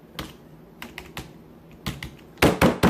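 Keys on a computer keyboard are pressed in scattered, irregular clicks, with short pauses between and a quick louder cluster of taps near the end, close and alone.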